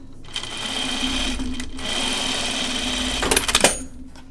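A sewing machine runs a steady top stitch down a seam on a pajama top, a close, even mechanical whir that stops briefly, restarts, then ends with a few clicks.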